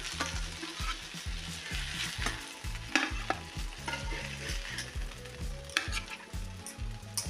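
Fish pieces fry in a pan for a pepper fry, crackling with a bright sizzle over a rhythmic, repeated scraping and stirring pulse, close by and without speech.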